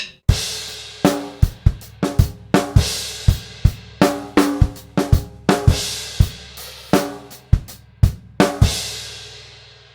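A solo drum kit plays three bars of a Trinity College London Grade 3 piece in a steady swung groove of kick, snare and cymbal hits, with crashes recurring across the phrase and no talking.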